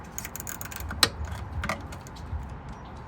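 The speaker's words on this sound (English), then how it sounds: "We're gonna tighten it by hand first, and then we're just gonna use a socket." A socket wrench tightens the nut on a Toyota TPMS sensor, producing soft close ratcheting clicks and a single sharper metallic click midway.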